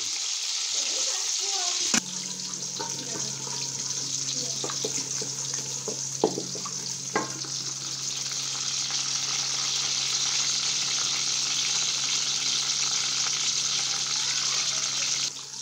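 Crushed garlic frying over a high flame for a vegetable stir-fry, a steady broadband sizzle running throughout with a few clattering hits early on, fairly loud and close, with no talking.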